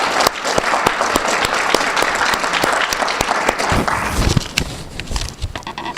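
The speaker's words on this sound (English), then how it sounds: "let's give them a big round of applause" Enthusiastic audience applause for Dr. Eric Kaler and Karen Kaler at a university community visit, with dense clapping that stays loud and steady throughout.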